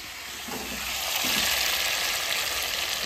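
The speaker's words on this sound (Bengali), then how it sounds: "মাংসটা ভালোই ভাজা ভাজা হয়ে গেছে," Meat frying in oil in a home kitchen gives a loud, steady crackling sizzle that swells slightly partway through, with no voices.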